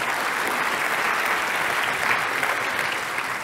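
Audience at an economics conference applauding, a thick, continuous roar of clapping from a large room that stays loud and steady for several seconds with no speech over it.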